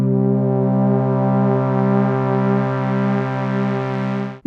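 A sustained pad from an Ambient Ø synthesizer's pad layer, Lime palette: a steady, dense chord of stacked harmonics holding evenly for about four seconds before cutting off abruptly, with nothing else heard.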